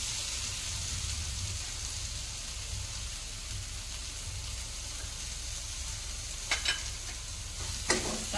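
Dried fish cooks with ivy gourd (tendli) and fresh coriander in a pan, a soft continuous sizzle with a low rumble, then a few brief scraping clatters of stirring near the end.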